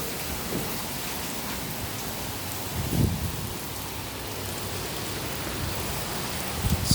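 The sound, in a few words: rain during a thunderstorm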